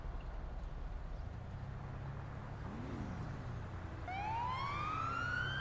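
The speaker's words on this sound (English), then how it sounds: "Oh, I hear a siren." A police siren sounds in the GTA 5 video game, faint and distant at first, then rising into a clearer wail near the end over a low rumble of traffic.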